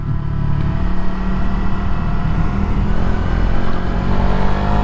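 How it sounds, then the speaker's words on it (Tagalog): A Suzuki Raider 150 fi motorcycle with its stock exhaust runs close by, producing a loud, steady engine drone that stays constant throughout. "maganda ang tunog niya uh, mas gusto ko ang stock exhaust hindi balahaw"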